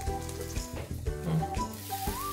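Multigrain dosa topped with onion fries in ghee in a covered pan, giving off a soft, continuous sizzle with faint crackles beneath a tonal background.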